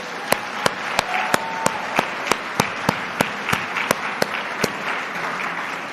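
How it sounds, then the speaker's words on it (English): An awards-gala crowd gives a round of applause for the makeup artists and hair stylists. The steady wash of clapping is punctuated by sharp, evenly spaced louder claps that keep a regular beat throughout. "can we give everyone here a round of applause?"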